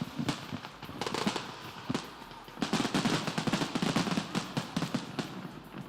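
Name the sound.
City of Melbourne fireworks exploding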